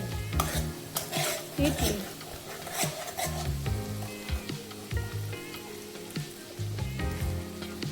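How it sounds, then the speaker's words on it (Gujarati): Garlic and chili paste sautés in a pan at a street food stall, making a loud continuous sizzle with busy metallic scraping and clattering of a spatula. A voice briefly speaks over it. "લસણ અને મરચાંની પેસ્ટ એકદમ સતળાઈ જાય"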